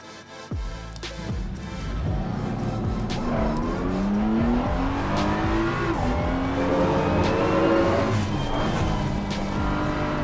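BMW race car lapping the Nurburgring in Assetto Corsa Competizione, its engine revving steadily with rising and falling pitch as gears change, loud and continuous with occasional tire squeal, no talking.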